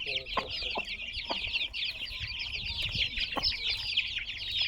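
A mother hen and her chicks cluck and cheep steadily while pecking at feed, a dense run of bright peeping over low clucks and scratching, close and continuous.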